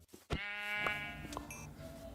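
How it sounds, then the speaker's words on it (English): Sheep bleating in the video game Minecraft, a single clear, nasal, wavering baa after a short sharp click, with faint game sounds underneath. "I ended up killing a brown sheep"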